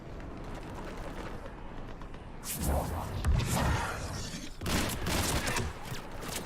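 Mass Effect 3 gunfire comes in two loud, sustained bursts of rapid shots over a background of game ambience, with no talking during the shooting.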